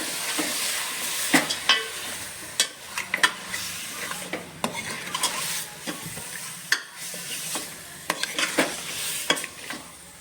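Mutton with salt and turmeric stir-frying in a cooker, a steady sizzle broken by repeated scraping and knocking of a spoon against the metal, close and with no talking.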